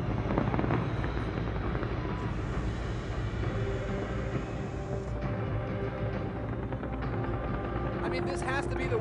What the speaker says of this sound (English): The fireworks are actually going off another building.